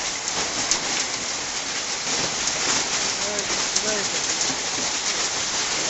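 Hail and rain pelt a tin roof during a storm in Assam, a steady dense roar of drumming impacts running throughout, with faint bird cooing briefly in the background.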